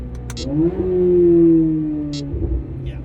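A Chevrolet Corvette C8 Z06 with an aftermarket hood revs and accelerates through a tunnel, its engine note rising into a loud sustained roar that swells, holds and fades, alone without talk.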